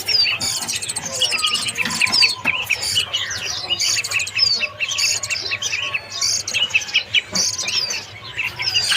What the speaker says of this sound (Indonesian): Dan di sini untuk lolohan pelatuk ulam atau pelatuk batu ya